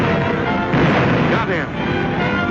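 Naval 5-inch shells bursting around a Japanese Zero fighter aircraft, a dense, continuous roar of wartime gunfire with a heavier swell near the middle, loud throughout with no clear gaps.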